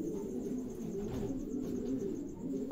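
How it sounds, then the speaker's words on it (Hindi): A partridge (teetar) calls at night near a light, its repeated low cooing notes steady and fairly close over faint background noise. "ये तीतर की बुलाई है"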